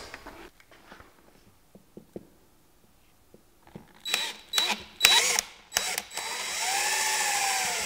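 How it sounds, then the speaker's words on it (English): A power drill whirs in several short bursts, then runs steadily, loud and close, after some quiet tapping and handling noises. "And then I'll drill these out"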